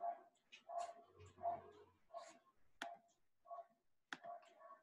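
A dog barks and yips in a short run of sharp, separate barks, fairly near but not loud, against a quiet room.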